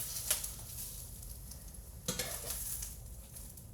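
Onions frying in a pan, giving a faint, steady sizzle with a couple of soft utensil clinks and stirring scrapes, heard with no talking.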